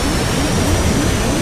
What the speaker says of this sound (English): Goodbye, plane.